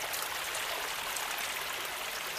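A mountain valley stream in winter runs steadily through a deep gorge amid snow and frozen ground, a continuous even wash of flowing water heard alone at a moderate distance.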